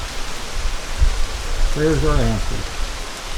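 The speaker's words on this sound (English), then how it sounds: "But it's raining." Steady rain falls, a continuous broadband hiss running through the whole stretch, while someone speaks briefly over it in the middle.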